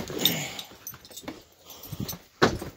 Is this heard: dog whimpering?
yes